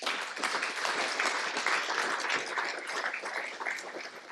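An audience at an academic event on monetary policy and financial stability claps in a warm, sustained round of applause, a dense, steady patter of many hands heard from within the room.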